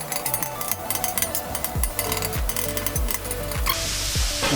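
Ground meat sizzling in sesame oil in a hot pan for an egg roll in a bowl, with steady frying hiss and repeated sharp scrapes and knocks of a utensil breaking the meat apart, close and fairly loud.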